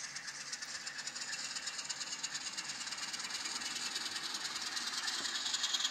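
An N scale Atlas Alco S-2 model diesel locomotive runs at high speed, giving a steady close whirring, rattling drone with a hissy, clattering edge that grows slightly louder, with no talk.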